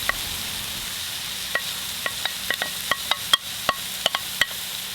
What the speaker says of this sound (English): Give it a good stir just to wilt the herbs